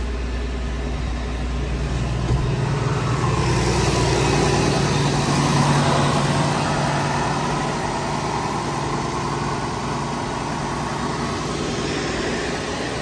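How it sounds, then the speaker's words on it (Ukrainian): A John Deere 6610 tractor with 7000 hours on it runs its engine, producing a steady, moderately loud, low mechanical rumble that holds constant throughout with no talking. "Ну, мощно, мощно працює тракторець."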